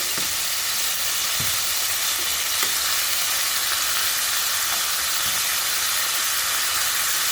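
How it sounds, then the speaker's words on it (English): Beef pieces sear in a hot frying pan with a loud, dense, continuous sizzle and hiss, with a few soft knocks as they are turned over, and no voices. "We got a nice little sear, so just let's go ahead and give them a flip."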